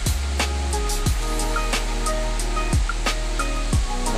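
Cold mountain stream water rushes along in a broad, steady roar, close by, with occasional sharper splashes and knocks breaking through the constant flow.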